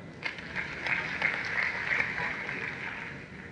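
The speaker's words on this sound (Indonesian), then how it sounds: "Beri tepuk tangan, saudara." Audience at a church seminar in Manado breaks into applause, a fairly soft spread of hand claps rising and fading over a few seconds in a large room.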